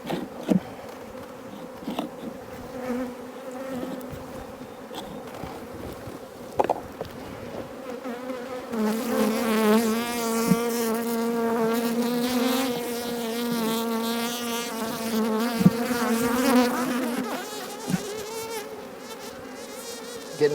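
Honeybees swarm and buzz loudly in an open beehive while drone cells are being scraped away, a dense steady drone that swells and grows noticeably more agitated partway through, with occasional scraping knocks from the frame work.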